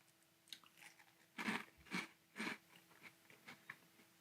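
Cap'n Crunch Arctic Crunch vanilla cereal is bitten and chewed up close, a few loud crunchy bites in the middle among quieter crackling chews, with no talking.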